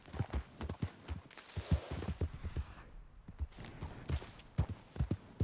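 Hooves clip-clop in Red Dead Redemption 2 as a horse moves over ground, a run of distinct rhythmic thuds that pause briefly around the middle before resuming, fairly close and moderately loud.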